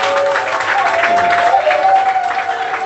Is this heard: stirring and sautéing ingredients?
no